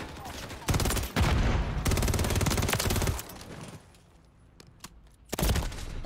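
Bursts of rapid automatic gunfire in a first-person shooter game, loud and dense for about three seconds, then a quieter stretch with a few isolated shots before another loud burst near the end.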